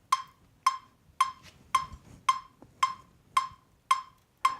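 A metronome ticks steadily at 111 beats per minute: nine sharp, evenly spaced clicks, close and clear, with no talking.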